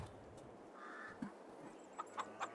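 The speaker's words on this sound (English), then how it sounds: "we sort of dug a chicken coop in over here, because I figured the family would have chickens" Chickens in a coop on a British farm map of a video game cluck softly, with a few short, close clucks near the end over a low background hum.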